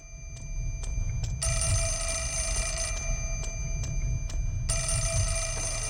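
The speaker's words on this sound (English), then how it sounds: "we can enter this place since the phone is ringing" Telephone ringing in the horror video game Fatal Frame: Mask of the Lunar Eclipse, two long bright electronic ring bursts over a low ambient drone with faint intermittent clicks.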